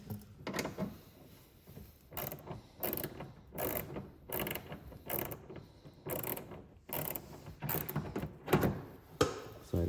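A hand ratchet tightens the bolt on a track mudflap being fitted to a G87 BMW M2, giving close, repeated bursts of rapid clicking separated by short pauses, with no one talking.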